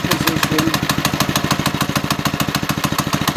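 Doodle Bug 97cc mini bike engine idling steadily while warming up, a loud close putter with an even, rapid rhythm of firing pulses throughout.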